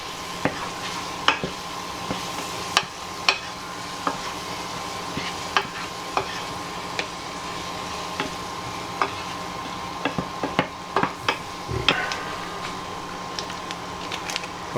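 Samosa filling with onion and lemon juice fries in a pan while it is stirred, a soft steady sizzle broken by scattered quiet scrapes and taps of the spoon.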